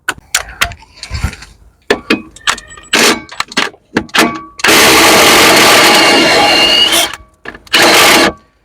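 On a Cadillac SRX front suspension, a tool works at an 18 mm shock absorber bolt. Short mechanical bursts and clicks give way to a long, loud power-tool whir, then a final brief burst.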